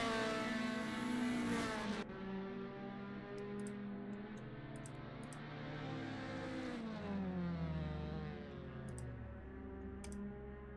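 Toyota Altezza race cars at Laguna Seca crossing the finish line, engines droning and shifting pitch steadily as cars sweep past, with brief ticking clicks, no talk.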